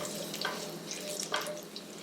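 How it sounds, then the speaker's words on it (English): Green chilies and chopped garlic sizzle in a hot pan, giving a soft, steady frying hiss with a few brief crackling spikes, close and fairly quiet. "add the green chilies, the chopped garlic, saute for a few seconds"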